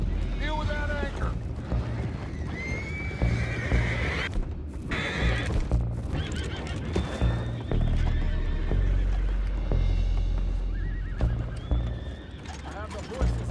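Horses whinny and neigh repeatedly amid clip-clopping hooves and creaking in a Red Dead Redemption 2 mission scene, with game characters speaking over the busy mix.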